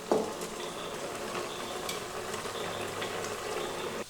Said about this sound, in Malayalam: ഇപ്പോൾ നമ്മുടെ മത്തങ്ങ വെന്തുകൊണ്ടിരിക്കുകയാണ്.